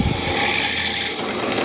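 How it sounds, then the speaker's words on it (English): A steady mechanical whir of a power drill grinding through metal tubing, close and continuous, with a slight shift in pitch near the end. "So we're going to drill through"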